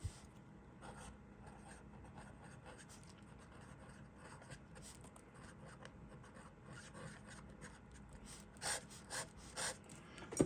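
An Esterbrook Relief No 1 fountain pen with an oblique nib scratching across paper, soft close rubbing strokes at low level, ending in a few louder scratches near the end.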